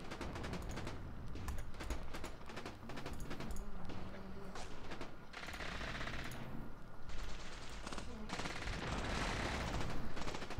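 Troops fire in the Graviteam: Mius Front war game. Dense, continuous machine-gun bursts and rifle shots mix with heavier crackling volleys throughout, some near and some more distant.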